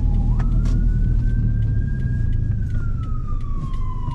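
A police car siren wails steadily, its pitch sliding slowly up and then down, loud and close over a heavy rumble of a car engine and road noise.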